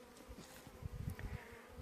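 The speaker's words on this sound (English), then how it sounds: "the queen cage is fully covered with bees, and they all look pretty happy" Honey bees buzzing around a queen cage on a frame in a long hive, a soft, steady low hum with small fluctuations, faint and close.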